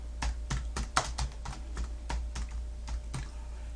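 Rapid, irregular clicks of keys being pressed on a computer keyboard, close by, with a low steady hum underneath and no talking.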